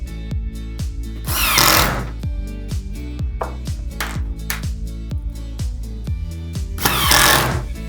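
Power drill pre-drilling holes for brackets on a lazy susan base cabinet, with short rhythmic bursts of motor whir and ratcheting clicks up close, swelling twice into louder drilling runs.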